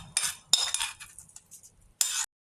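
Fried mustard seed tempering with chillies and curry leaves is poured into coconut ash gourd chutney, giving a few short, close bursts of hiss and clinking against the bowl, separated by quiet gaps.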